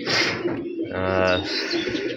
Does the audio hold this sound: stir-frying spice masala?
no